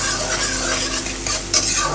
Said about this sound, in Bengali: পরে দেবো পেঁয়াজটা একটু ভাজা হলে তারপরে দেবো। মোটামুটি এটা ভাজা হোক।